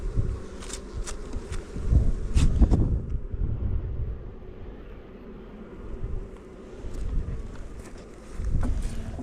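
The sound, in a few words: honey bees buzzing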